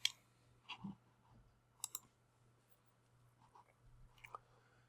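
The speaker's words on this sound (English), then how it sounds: "Click on the wheel" Faint, sparse computer mouse clicks while scheduling a script in Unraid, a few soft separate clicks spread over several seconds against a low steady hum, with no talking.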